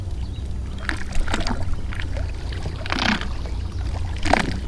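A Minn Kota trolling motor fitted with a weedless wedge pushes a boat through heavy weeds, giving a close, continuous low hum with sloshing water and rustling vegetation throughout.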